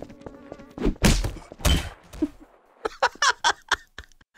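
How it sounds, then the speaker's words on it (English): A character in Garry's Mod DarkRP hits a pole: two loud, hollow thuds close together, then a quick run of sharper knocks, with no speech. "He hit that pole. It was like,"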